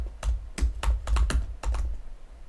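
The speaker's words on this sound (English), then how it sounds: "So if you type in trimyristin," A computer keyboard typing a search term, a run of about a dozen crisp, close keystrokes in an irregular, quick rhythm, with no talking over it.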